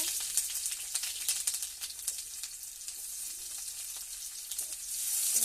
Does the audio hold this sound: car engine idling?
no